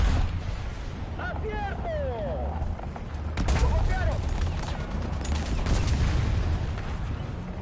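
Gunfire in the War Thunder video game, repeated bursts and rapid shots over a steady engine rumble, with whistling shell sounds near the start and a louder barrage from the middle onward.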